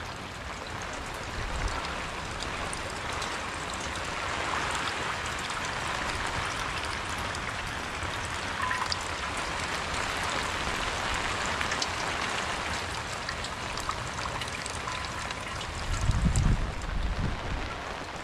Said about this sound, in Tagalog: Yan, biglang buhos po ang ulan.